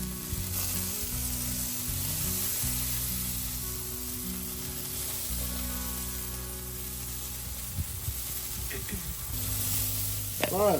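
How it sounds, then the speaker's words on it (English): Butter is basted onto a beer can chicken on a Weber Smokey Mountain smoker, giving a steady, close sizzle with a low hum beneath and a few faint clicks and scrapes near the end. "We're just going to baste it again."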